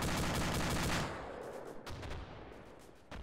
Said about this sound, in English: That Mark 19 just wiped out half a fire team of headshot.